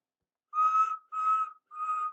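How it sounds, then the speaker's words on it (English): Three short high whistle toots from a steam engine whistle, heard clean and close with brief gaps between them and no talk over them, in the style of Thomas the Tank Engine. ""Here we are," whistled Thomas"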